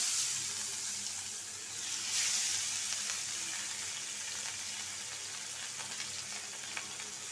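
Rohu fish pieces sizzle in hot oil in a wok, a steady, fairly faint frying hiss that carries on through the whole stretch with no talking.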